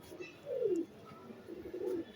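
Breeding pigeons at a pigeon farm coo softly nearby, two low, throaty warbling calls separated by a short pause, over faint background hiss.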